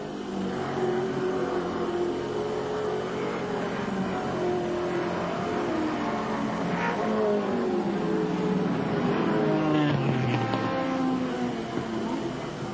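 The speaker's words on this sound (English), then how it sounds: "John White, car 65, about to be lapped by Brock." Touring race cars from the 1983 Australian Touring Car Championship roar past on the circuit, engines droning and shifting pitch continuously, with a leader coming up to lap a slower car; loud and steady throughout.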